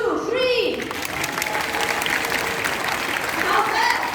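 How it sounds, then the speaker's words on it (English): Audience at a bird park show clapping and stomping feet together, a dense sustained burst of applause filling the space, with a bird call heard at the start and cheering voices scattered through it. "I need all of you to clap or stomp your feet as loud as you can"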